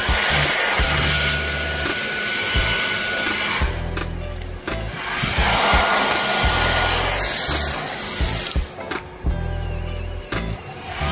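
A Philips 2000-watt hair dryer runs at full power off a Storcube S2500 portable power station, a steady loud blowing whir throughout, with a low rhythmic mechanical churn from a washing machine underneath.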